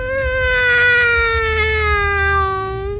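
A four-year-old child imitates a race car with a single sustained voiced whine, slowly sliding lower in pitch over about three seconds, close and clear with no other talk.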